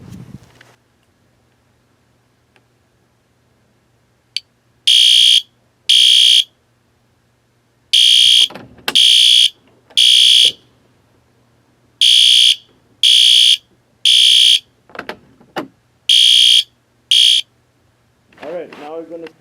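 Loud, piercing fire alarm horn blasts from a unit made by a Honeywell-owned company, tested in a closet, sounding in repeated short bursts, pairs and triplets with gaps between, with a voice talking briefly between blasts.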